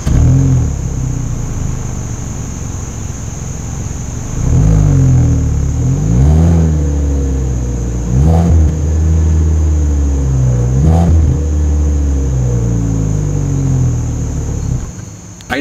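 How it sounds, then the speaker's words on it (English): A 2025 Kia Soul engine idles with a deep exhaust rumble, then revs sharply several times, each burst rising and falling, loud and close. "As always, here is that exhaust clip."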